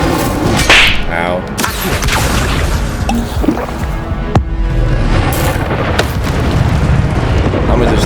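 A fiery Incendio spell blast from Hogwarts Legacy bursts loud and whooshing, followed by ongoing clashing combat noise, with a brief pained cry from a voice partway through.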